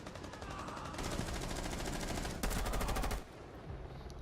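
Assault rifle gunfire in the Rainbow Six Siege video game, rapid automatic bursts that run steadily for about three seconds with a sharper, louder volley near the end, then stop abruptly.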